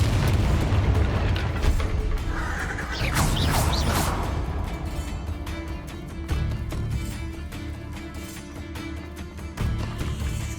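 Bombarda explosion spells in Hogwarts Legacy: deep, rumbling booms and crashing blasts roll almost without pause over constant loud game noise, with no talk.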